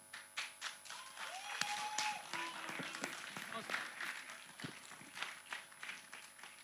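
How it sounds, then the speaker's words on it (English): Applause from an audience at a business conference, scattered claps rising and falling while a speaker talks over the hall. "please continue clapping"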